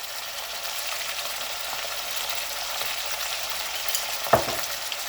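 Mutton fries in a karahi with salt, a close, even sizzle that runs steadily throughout, broken by one sharp clack of a utensil near the end, with no voices.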